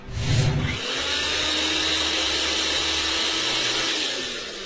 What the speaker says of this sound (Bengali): ব্লেন্ডার মেশিনটা ছাড়ো তো